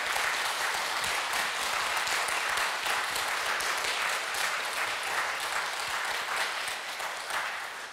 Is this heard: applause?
yes